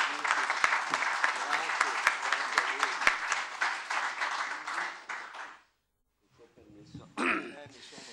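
Sustained applause from an audience at an Italian book presentation, dense clapping for about five seconds, then it dies away and a voice briefly speaks.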